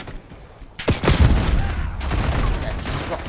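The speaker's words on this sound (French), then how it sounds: "encore fusil à pompe, faut arrêter" Shotgun blast in a video game, a single loud boom followed by a sustained rumbling roar of gunfire and battle noise, with a voice speaking briefly over it.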